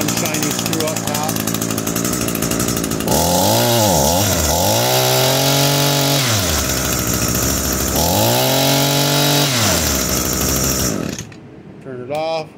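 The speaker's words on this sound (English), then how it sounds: "Turn it off, turn it back on, fire it right up, ready to go." An Echo PPF-225 pole saw's small two-stroke engine runs close by after a carburetor and fuel line repair, idling then revving up and down repeatedly before shutting off.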